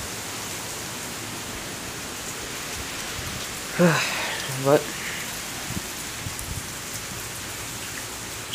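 Heavy hurricane rain from Hurricane Harvey falls steadily in Sugar Land, Texas, a dense, even hiss running throughout, broken midway by a couple of brief louder bumps and a short spoken word.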